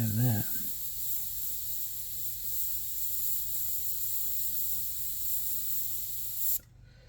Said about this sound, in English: get a little bit of paint flowing and just give your airbrush a little bit of a wiggle